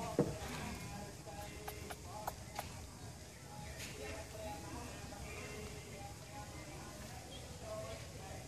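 Sheep bleat in a farm setting, several calls rising over a steady bed of chatter and rustling, fairly close with other animals and people faintly in the background.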